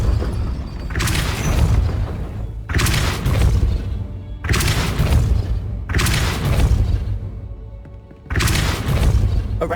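Depulso spell cast in the video game Hogwarts Legacy: four heavy, booming bursts at roughly two-second intervals, each a loud, broad whoosh-and-thud that fades before the next.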